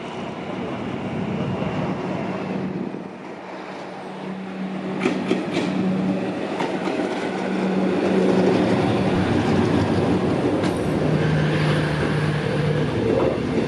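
An empty Thaksinarat passenger train rolls around the Bang Sue curve, a steady loud rumble of wheels and cars with brief squeals and rattles, sustained throughout at close range.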